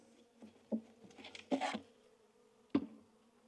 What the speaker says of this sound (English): so there are those bees